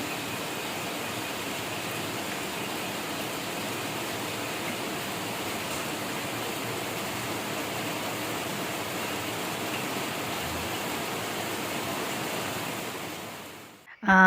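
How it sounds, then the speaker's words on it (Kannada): Heavy rain roars in a constant, even wash for a long stretch, ending with a brief louder bump. "ಮಳೆ ನೋಡಿ ನಿಮಗೆ ತೋರಿಸ್ತಾ ಇದ್ದೀನಿ ಯಾವ ಥರ ಮಳೆ ಬರ್ತಾ ಇದೆ ಅಂದರೆ ಆ ಸೌಂಡ್ ಕೂಡ ಕೇಳುತ್ತೆ"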